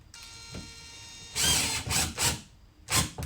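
Power driver sinking screws through carpet into steel and wood on a Tracker Classic XL bass boat, several short whirring bursts separated by pauses, fairly quiet and close.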